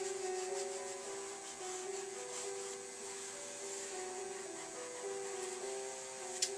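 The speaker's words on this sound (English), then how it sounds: "If you're happy with the layout, rub them in." Adhesive letter stickers are rubbed down firmly onto a canvas, giving a continuous soft friction rubbing with a faint mechanical hum beneath, steady and close, no speech.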